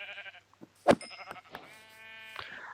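Sheep bleating in the Minecraft video game, a loud wavering bleat with a sharp click near the start, followed by softer overlapping game tones and bleats.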